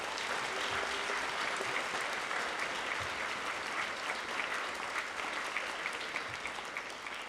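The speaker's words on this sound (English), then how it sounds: "So just give yourselves a round of applause really quick." A crowd applauding steadily throughout, dense clapping without pauses, moderately loud and even.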